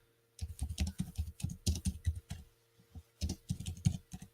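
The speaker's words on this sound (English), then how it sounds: "I'm just typing that up," Typing on a computer keyboard, close and clear, in quick bursts of clicky keystrokes separated by a short pause, with a faint steady hum underneath and no talking.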